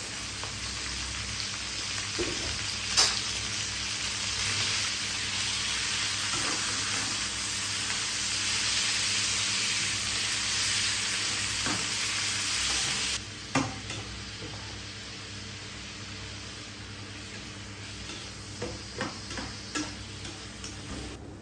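Beef fries and sizzles in a pan with a loud, steady hiss that drops noticeably partway through, broken by occasional utensil taps and stirring clatter.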